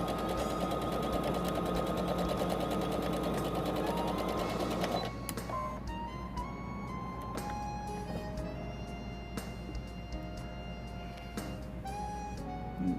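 Sewing machine stitching a back stitch on towel fabric, a fast, close, continuous whir that stops after about five seconds, followed by quieter clicks and handling sounds.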